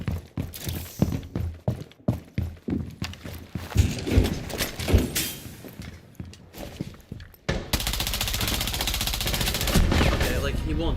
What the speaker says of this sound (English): I'm putting an entire mag into his skull